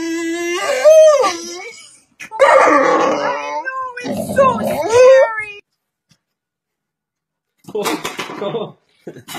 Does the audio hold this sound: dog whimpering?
yes